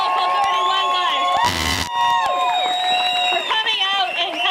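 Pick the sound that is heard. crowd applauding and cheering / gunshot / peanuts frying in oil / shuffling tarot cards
crowd applauding and cheering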